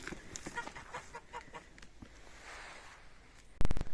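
Geese honk and cackle in a quick flurry of calls nearby, then fade into quieter background before a sharp clatter at the end.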